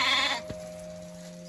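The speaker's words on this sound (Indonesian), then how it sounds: "ada yang berternak domba yang lucu-lucu di kandang belakang rumah" A sheep bleats from a pen behind a house in a rural village in South Cianjur, a short nasal cry at moderate distance followed by a steady background hum.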